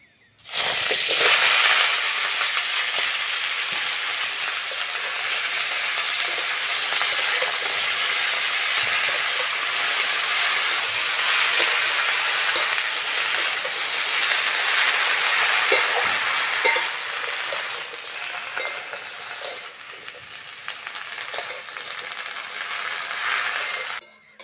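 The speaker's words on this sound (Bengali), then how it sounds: "সবজিগুলো ভালো করে ভেজে নিয়েছি" Bottle gourd greens and chopped vegetables fry in hot oil in a wok, giving a loud, steady, dense sizzle that runs nearly unbroken for the whole stretch with occasional stirring scrapes.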